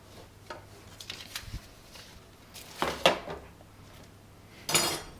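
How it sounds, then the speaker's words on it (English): A metal spatula scrapes and clinks against a baking sheet while lifting baked goods onto a cooling rack, giving a few soft taps and then two louder metallic scrapes, close and fairly quiet, with no talk. "you're going to want to put it on a cooling rack with a spatula, just a regular spatula like this"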